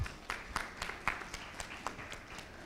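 A small audience at a panel discussion gives sparse, separate claps welcoming a speaker, a handful of distinct hand claps spread irregularly and fairly faint in a quiet room.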